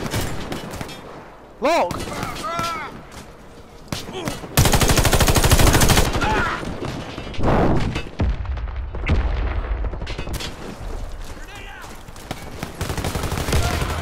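Gunfire and a grenade blast in the shooter game Warface: bursts of rapid shots, then a loud, sustained explosion roughly midway, followed by scattered shots. A player briefly speaks over the action.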